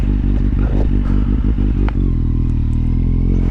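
A loud motorcycle engine chugs in uneven pulses, then settles into a steady low drone during a stoppie, heard close from the rider's position.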